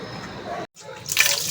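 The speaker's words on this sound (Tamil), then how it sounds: "இந்த ஒரு கிலோ சிக்கனை இப்போ நல்லா நம்ம மஞ்சள் தூள் போட்டு அலசி கழுவி எடுத்துக்கலாம்" Raw chicken, about a kilogram, rinsed and swished by hand in water with turmeric powder: close splashing and sloshing with a brief pause, then a brighter splash of pouring water.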